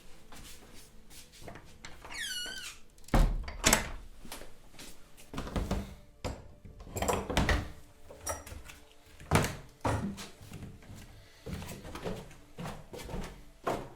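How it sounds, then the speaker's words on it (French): A door swings open and shut indoors, producing a run of knocks, bumps and thuds with a brief squeak, spread unevenly over a quiet room. "La porte!"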